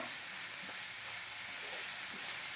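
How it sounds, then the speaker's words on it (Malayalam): Onions salted with three quarters of a teaspoon of salt and stirred as they fry for egg bhurji, giving a continuous even hiss of sizzling oil with faint occasional stir sounds and no talk. "3/4 ടീസ്പൂൺ ഉപ്പിട്ട് നമ്മൾ ഇളക്കിക്കൊണ്ടിരിക്കുന്നു"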